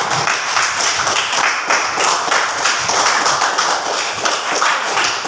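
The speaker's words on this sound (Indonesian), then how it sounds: "Tepuk tangan untuk teman." A group claps for a friend, a continuous run of loud, rapid hand claps at close range with no pause across the whole stretch.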